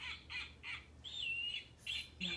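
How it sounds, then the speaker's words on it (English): A snowy owl gives a series of short, harsh squawking calls in quick bursts, then a longer drawn-out cry, faint and alone with no talk. "A snowy owl."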